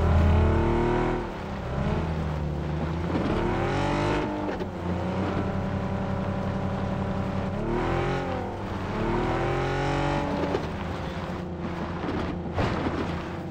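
Car engine in PUBG Battlegrounds, a steady droning motor with rising and falling revs as the vehicle accelerates and shifts, continuous and fairly loud throughout with no talk over it.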